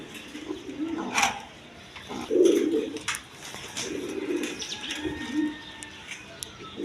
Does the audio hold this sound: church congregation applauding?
no